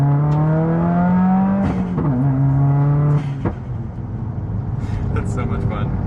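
A Subaru WRX engine revs and accelerates hard, its pitch climbing and dropping through gear changes, with sharp exhaust pops near the end; the car sounds loud and close throughout.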